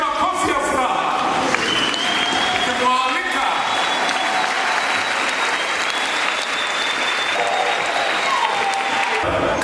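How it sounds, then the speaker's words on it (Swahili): A church congregation clapping in joy, a dense burst of applause with a speaker talking over it on a microphone, lasting throughout. "nataka tusimame wote tukipiga makofi ya furaha"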